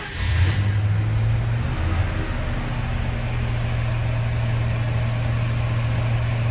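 A 1977 Ford F-100 with a 302 V8 starts up and settles into a steady low idle, a loud, continuous engine rumble with no talk over it.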